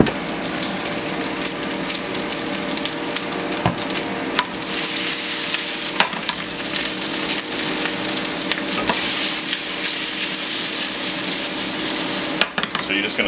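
Beet greens sizzle steadily in hot olive oil in a pan, a dense continuous crackle with occasional louder pops and stirring clatter, close and loud throughout with no talk.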